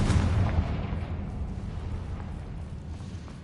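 A Confringo spell blast in the video game Hogwarts Legacy, a deep booming explosion that hits at once and rumbles away slowly over several seconds.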